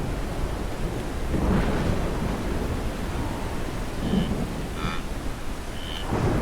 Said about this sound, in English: Against the roaring sound of thunder, Rengo stood up.